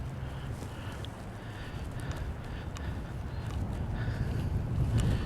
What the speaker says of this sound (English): this wind gets real quiet when I don't have the camera on